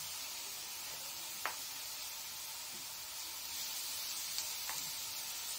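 Zucchini sizzles quietly in a frying pan with a soft, even hiss and a few small pops, and no one speaks.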